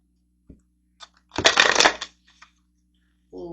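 Tarot cards are handled with a few soft taps and then a dense half-second flurry of papery shuffling and rustling, followed by faint clicks before a voice starts at the end.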